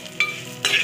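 Semiya vermicelli frying in ghee in a pan is stirred twice, with two quick bright scraping strokes over a faint sizzle.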